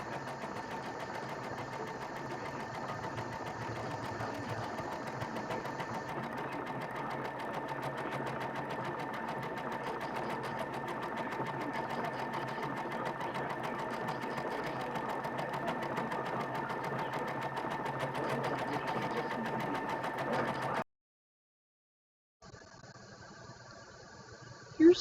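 A sewing machine stitches fabric for a quilt block in a long, steady, close whir lasting about twenty seconds, then stops briefly before running again more quietly.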